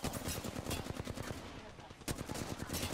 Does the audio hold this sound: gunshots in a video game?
yes